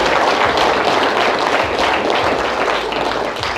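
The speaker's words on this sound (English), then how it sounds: "so give him a round of applause." An audience at an astronomy lecture applauds steadily, a dense, sustained wash of clapping that stays loud and fills the room throughout.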